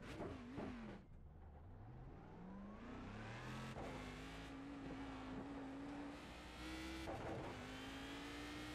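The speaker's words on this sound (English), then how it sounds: "That the car is a lot more controllable." Race car in the iRacing video game, engine revving and climbing through gears with shifting pitch sweeps, a few brief gaps between upshifts, steady and fairly loud with no talk.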